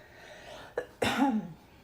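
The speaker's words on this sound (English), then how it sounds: "I'm still trying to clear my throat." A single short throat clearing, a brief rasp followed by a longer, harsher clearing sound, close by and fairly loud against a quiet background.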